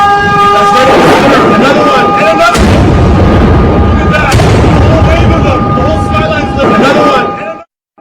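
A missile strikes Jerusalem: loud, heavy booms break through a dense, roaring wash of noise, with a sustained wailing tone running underneath the blasts throughout.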